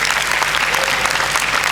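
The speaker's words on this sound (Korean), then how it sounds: "보통 여기서 박수가 나오거든요." A large audience at a Sunday morning gathering breaks into loud, continuous applause, a thick wash of many hands clapping at once that fills the whole short moment.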